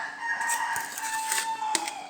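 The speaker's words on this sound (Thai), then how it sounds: "ไก่เยอะมากนะคะบ้าน" Roosters crowing in long, drawn-out calls, fairly close, with faint background noise between them.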